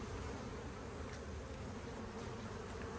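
Honeybees buzz in a dense, continuous swarm while a hive is opened for inspection, a steady, fairly close hum with no talking over it.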